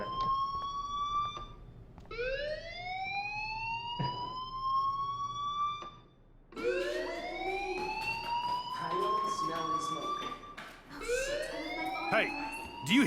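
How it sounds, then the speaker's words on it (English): In the Life is Strange video game, a fire alarm wails in repeated rising siren sweeps, pausing briefly near the middle before starting again, with talking underneath. "Hey, do you hear that fire alarm?"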